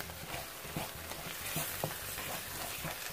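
A butter and flour roux cooks in a pan, sizzling steadily while a wooden spoon scrapes and stirs through it in soft, irregular strokes.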